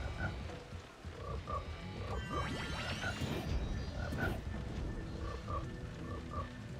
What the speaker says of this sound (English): Whatever is croaking needs to die.